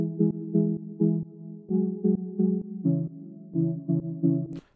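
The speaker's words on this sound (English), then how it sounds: "So for our first synth, I'm using a saw-based synth." Saw-based synth chords with a slightly long attack and a plucky filter-cutoff shape, repeating in short, evenly pulsing stabs at moderate level, mellow and alone.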